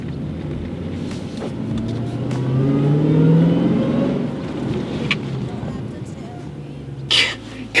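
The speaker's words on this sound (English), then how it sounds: "how to come to a fast stop in a manual when you're driving on the highway" A manual-transmission car braking hard to a quick stop on a highway, its engine pitch sweeping down and road rumble fading over several seconds, with a brief louder burst near the end.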